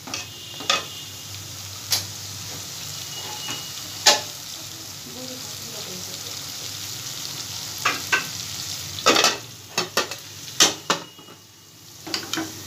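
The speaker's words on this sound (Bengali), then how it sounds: "এটা এখন কষানো হবে।" Food being sautéed in a pan, a low steady frying hiss broken by scattered sharp scrapes and knocks of stirring, louder clusters toward the end, close by with no talk.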